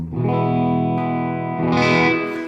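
Electric guitar played through a Blackstar AMPED 1 100-watt pedal amp on its UK high-watt KT88 voicing with flatter EQ, reduced gain and some reverb, ringing out loud and sustained in a big, slightly driven chord tone with a brighter attack near the end.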